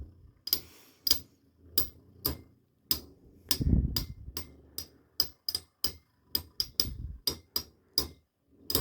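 Beyblade spinning tops clash in a battle arena with a string of sharp, clicking hits. The impacts are irregular, some in quick clusters and some spaced apart, and each lands close and crisp against a faint whirring rumble.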